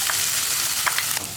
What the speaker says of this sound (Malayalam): നമ്മൾ റെഡിയാക്കി വെച്ചിരിക്കുന്ന നമ്മുടെ അരപ്പും കൂടി ചേർത്ത് കൊടുക്കാം